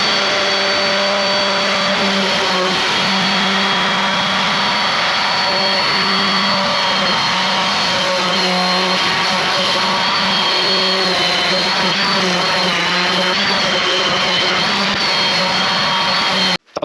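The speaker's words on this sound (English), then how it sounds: "So I'm staying at the 100 grit, but now with a finer machine, and again sanding." A finer sanding machine with 100-grit paper works a wooden cheese plank, giving a loud, steady whirring hum with a constant motor whine that runs unbroken until it stops sharply at the end.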